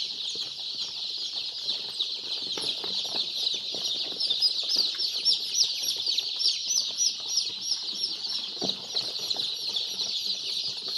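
A large flock of young chickens (pullets) on a poultry farm clucks and peeps continuously in a dense, steady chorus, with occasional wing flaps and thumps.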